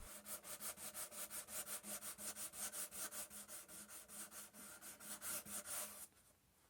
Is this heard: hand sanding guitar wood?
yes